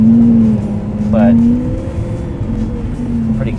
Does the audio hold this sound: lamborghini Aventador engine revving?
yes